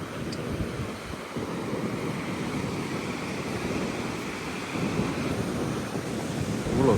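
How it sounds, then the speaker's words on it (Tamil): Strong sea waves crash on a beach in Goa, a continuous loud roaring wash of surf and spray with no break, steady throughout and swelling slightly near the end. "இவ்வளோ சரியான அலை பாருங்க."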